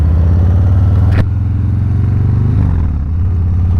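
A 2022 Harley-Davidson Low Rider S motorcycle underway, its engine a loud, steady low rumble heard from the saddle with a brief clatter partway through, no voices.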